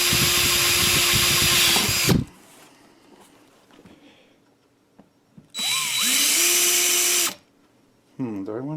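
A close power drill runs for a couple of seconds drilling into a ceiling, stops for a quiet stretch, then spins up again in another burst before a brief final start.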